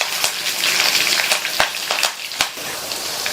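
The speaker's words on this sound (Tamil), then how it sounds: "கூடவே 2 பச்சை மிளகாய், கறிவேப்பிலை எல்லாத்தையும் லைட்டா வதக்கி விட்டுட்டு" Ginger, two green chillies and curry leaves sauté in hot oil for upma, making a steady close sizzling hiss with occasional sharp pops and crackles.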